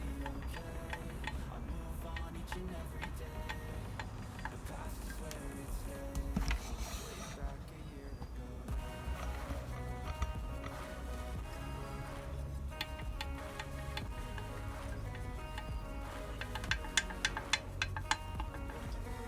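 Rapid metallic ticking and knocking from a running IZh Jupiter 5 motorcycle engine with a loose piston knocking on its pin, a steady clatter that stays loud throughout with a few sharper taps near the end.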